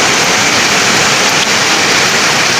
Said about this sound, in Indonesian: Berhenti saat ini hujan.